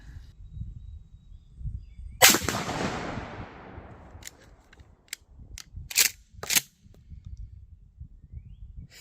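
A 12 gauge shotgun fires slugs at 50 yards outdoors, one loud sharp blast with a long decaying tail, then several quieter sharp cracks and clatters over low background rumble.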